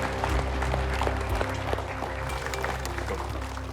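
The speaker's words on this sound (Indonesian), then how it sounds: "Tepuk tangan ibu-ibu boleh, silakan." Women in an audience clapping together at a religious gathering, steady dense applause close by for the whole stretch with no pauses.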